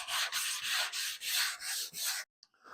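Hand sanding with a 100-grit sanding block on the curved steel quarter panel of a 1970 Dodge Challenger, stripping toward bare metal: close, loud rhythmic rasping strokes, about nine in steady succession, ending abruptly with a faint scrape.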